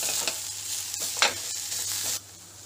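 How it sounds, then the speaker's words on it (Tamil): Curry leaves and coriander sautéed with fried taro in a pan give a steady close sizzle, with a few louder stirring scrapes and rustles before the frying noise drops away near the end. "கொஞ்சம் வதக்கி"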